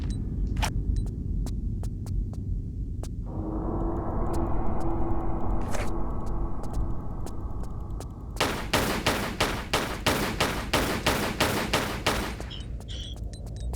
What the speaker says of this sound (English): Shoot to the vases around the room